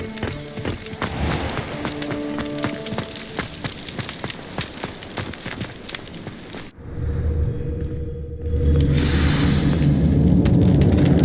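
Repeated Confringo spell blasts strike magical symbols on a wall in the Hogwarts Legacy video game, heavy booming bursts in quick succession over a dense game score, ending in a swelling rumble.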